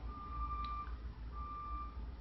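A garbage truck backing up outside gives two faint, evenly spaced reversing beeps, distant and thin over a low steady rumble.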